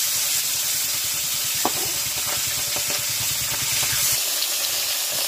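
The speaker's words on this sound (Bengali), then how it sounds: "তেল গরম হয়ে গেছে, এবার একে একে মাছ ছাড়বো।" Bhola fish frying in hot oil in a village kitchen, a steady close sizzle with scattered crackles and small pops running throughout, no talking.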